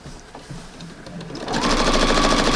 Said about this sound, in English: I'm sewing with a 1/2 inch seam.